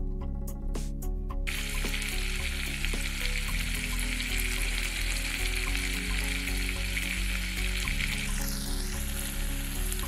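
Masala egg fry sizzling steadily in a pan, a close, continuous crackle with occasional soft stirring sounds and no talking.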